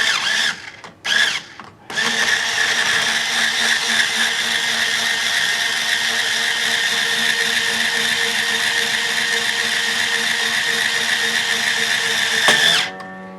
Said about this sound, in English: I've got my Ernie Ball string winder, where I just tighten this up